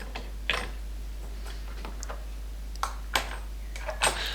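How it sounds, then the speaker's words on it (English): Wing nuts are tightened by hand onto the bolts of a homemade wooden air rifle stand, giving scattered light clicks and small metallic scrapes close by over a low steady hum, with no voices. "and tighten the wing nuts down"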